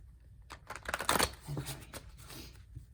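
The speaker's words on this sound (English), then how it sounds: "quick little shuffle here for you, the viewer" A deck of tarot cards is shuffled briefly by hand, a close, soft riffling burst of papery flutters in a quiet room.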